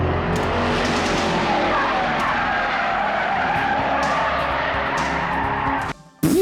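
Car tires skid and squeal loudly as the car drifts around a curve, a sustained, close screech with engine noise that cuts off abruptly near the end.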